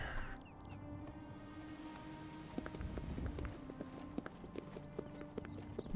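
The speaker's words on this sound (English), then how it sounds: "There's a guard walking by on his horse" Horse hooves clip-clop as a mounted guard passes in the video game Oblivion, steady hoofbeats mixed with ambient game sounds, birds and faint background music, fairly close and moderately loud.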